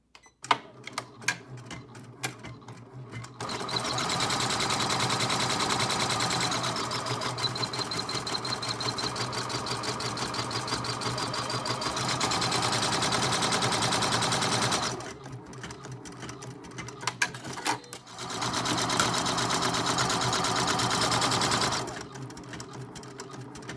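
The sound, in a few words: embroidery machine decorative stitching on a bunny girl bracelet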